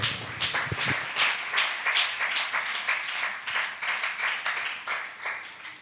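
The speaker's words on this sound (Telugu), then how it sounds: "చప్పట్లు కొట్టి దేవుని నామయం పలుకుతా." Steady rhythmic hand clapping from a church congregation, sharp claps repeating about twice per second at a brisk, even tempo, fairly loud and close with no talk over it.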